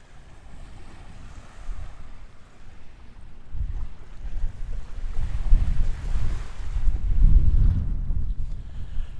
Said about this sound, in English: I have made my way to a giant body of water, which I am given to assume is Lake Michigan